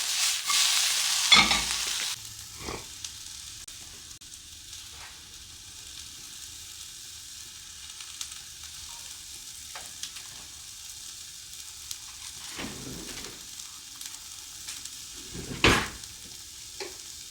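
Eggs fry in a pan with a soft, steady sizzle and occasional clinks of stirring, quiet and continuous, with no one talking.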